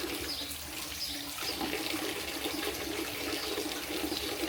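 Water runs steadily from a forest fountain on the Camino de Santiago's Portuguese Coastal Route, with a continuous close splash and gurgle and a broad rushing wash throughout, and no talking.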